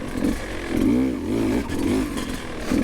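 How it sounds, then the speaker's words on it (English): A Beta 200RR dirt bike engine lugs in first gear at low revs with a 15-tooth countershaft, giving a close, chugging, pulsing exhaust note that rises and falls as it labors up a hill. "In first gear, we'll just lug it. Look at that baby lug!"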